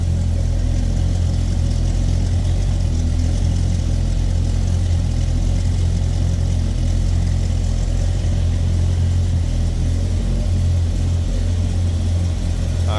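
A 1969 Chevrolet El Camino's small-block V8 idles steadily and close by for about thirteen seconds, a deep, even rumble with a loping low throb, alone and with no talk over it.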